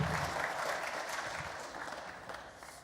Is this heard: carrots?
no